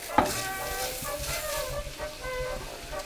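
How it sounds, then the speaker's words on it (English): Arborio rice tumbles onto onions in a hot, oiled pot, raising a steady close sizzle with a stirring scrape over it. "We're gonna add our arborio rice to our onions."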